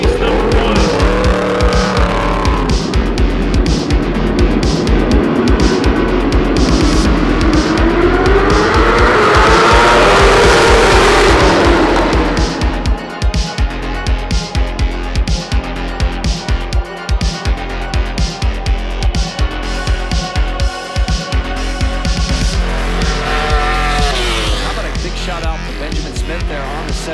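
Superbikes race around a rain-soaked Michelin Raceway Road Atlanta, engines loud and close, with a high howl that swells and fades as machines pass and tires hiss on the wet surface, steady throughout.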